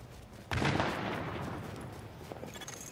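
Heavy gunfire in a first-person shooter match, a sudden loud boom-like burst of shots that rolls into a sustained, fading rumble of distant firing, with no talk over it.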